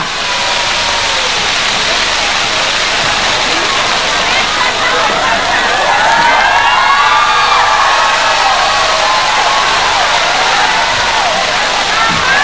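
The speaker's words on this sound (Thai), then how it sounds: "ขอเสียงปรบมือต้อนรับคุณจิตนาถลิมทองกุลบนเวทีค่ะ" A large audience claps and cheers loudly and continuously, a dense roar of applause welcoming a speaker onto a stage at a televised event.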